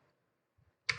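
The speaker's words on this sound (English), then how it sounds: "we have to press enter to continue with the US default keyboard layout" A single computer keyboard Enter key press during VMware ESXi 8.0.3 host setup in a virtual machine, a sharp close click burst near the end after faint low taps, no talk.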